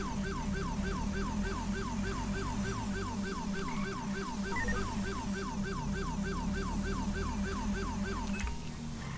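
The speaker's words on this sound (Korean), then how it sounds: "네, 관심 끌려고 하는 사이렌이에요." Wailing police siren from a car in the video game GTA V with the LSPDFR police mod, a steady repeating yelp cycling about twice per second, loud and continuous with a low engine rumble underneath and no talk.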